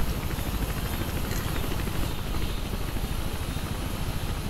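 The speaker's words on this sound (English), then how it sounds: "So I have to jump onto the chopper." Helicopter in the video game Mirror's Edge, a steady loud rotor and engine drone with dense low-frequency thumping that runs continuously throughout, no voices over it.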